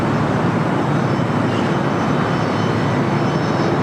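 A Boeing 787-10 Dreamliner jet roars at LAX, a loud, steady broadband engine rush holding constant without pause.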